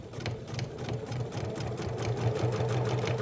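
Sewing machine stitching a short test seam, a fast steady mechanical whirring chatter with regular needle beats, close and continuous throughout.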